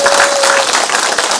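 A crowd at a talk concert gives warm, loud applause in welcome, a dense wash of many hands clapping without pause throughout.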